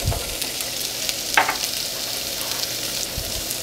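Cardamom pods, star anise and garlic fry in hot oil with a steady, close hiss of sizzling and one brief clink partway through, no talk.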